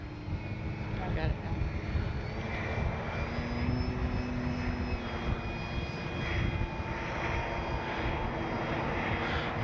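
An FMS 1400mm Pitts V2 RC biplane flies by on a windy day, its engine a continuous buzzing drone that swells and fades over heavy wind noise while people talk nearby.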